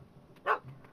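A dog in the fantasy video game The Witcher 3 gives a single short bark, moderately faint against a quiet low ambient backdrop.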